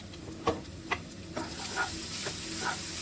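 Onions and ginger-garlic paste roasting in hot oil for a restaurant-style chicken masala gravy give off a steady, soft sizzle, with a few sharp spatula scrapes and stirs breaking through it at intervals. No one speaks.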